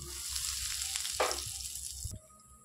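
Asafoetida hits hot oil in a wok and sizzles loudly and continuously, with a brief burst of stirring scrape in the middle before the frying noise suddenly drops away.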